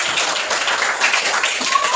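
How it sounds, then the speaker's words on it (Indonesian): Classroom applause from students, a dense, steady patter of many hands clapping together at close range for the full two seconds. "Tepuk tangan untuk Satrio dan Rifki"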